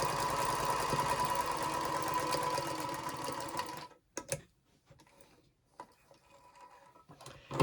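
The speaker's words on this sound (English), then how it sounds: "go ahead and stitch a 1/4 inch down the next edge" A sewing machine runs steadily, stitching a quarter-inch seam along the edge of a hexagon potholder, a loud continuous whirring buzz for about four seconds that stops abruptly, followed by faint handling clicks and rustles.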